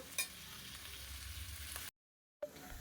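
Food fries in a pan with a soft, steady sizzle and a light crackle near the start; the sound cuts out for a moment, then the sizzling resumes.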